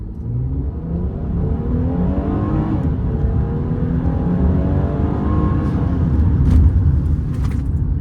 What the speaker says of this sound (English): I do like the sound of this V6. It's a Pentastar V6